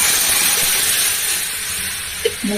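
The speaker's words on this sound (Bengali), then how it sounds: "ডালটাকে ঢেলে দিচ্ছি" Dal (lentils) tipped into a hot pan in a home kitchen, giving a loud, steady steamy hiss that eases slightly over a couple of seconds, with a few small clinks near the end.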